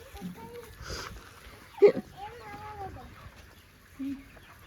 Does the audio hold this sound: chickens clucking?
yes